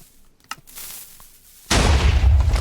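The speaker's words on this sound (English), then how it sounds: "So we got a TNT cannon." A TNT cannon in Minecraft goes off with a sudden loud, sustained blast that cuts in after a few quiet clicks and faint shuffling, booming and rumbling heavily until the end.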